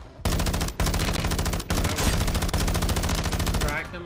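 Shotgun fire in an online video game comes as a dense, loud stream of rapid gunshots with a few short gaps, close and sustained almost throughout.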